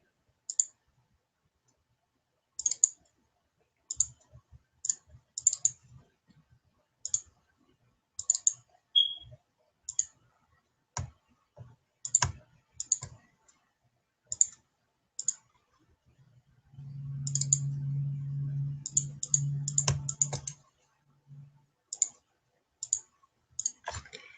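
A computer mouse clicks and a keyboard is used during scheduling software work. Sharp single and double clicks sound close and regular, with a brief run of quick keystrokes and a low hum partway through.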